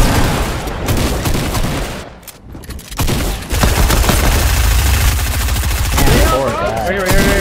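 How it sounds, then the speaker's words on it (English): Rapid gunfire and explosive rocket blasts from a Fortnite match, loud and dense with a brief lull, while players talk over the action throughout. "Here, I'm gonna shoot RPG in there."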